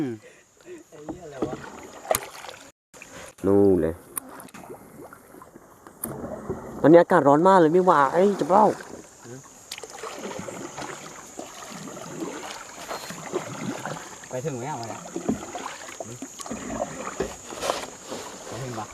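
Oars dip and splash as a rowboat is paddled across water on a hot day during a fishing outing, with soft intermittent strokes beneath steady conversation from people in the boat.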